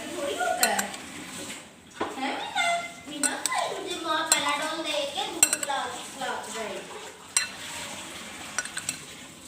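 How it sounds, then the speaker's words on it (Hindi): A spoon clinks and scrapes against a bowl while black chana chaat salad is stirred and mixed, a run of close, irregular clatters with someone talking over them. "अब मैं इसको अच्छे से मिक्सअप करूँगी"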